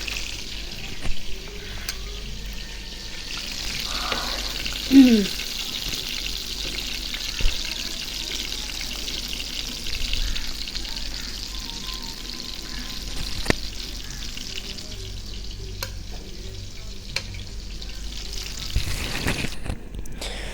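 Fish coated in turmeric frying in hot oil, a steady faint sizzle running throughout with a few soft clinks and stirring sounds, no voices.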